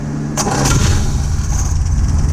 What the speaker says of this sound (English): I'm going to try to start it with our starter cable.